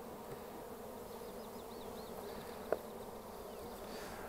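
Honey bees from a package being installed into a hive hum in a steady, faint drone throughout, with one brief tap partway through and no talking.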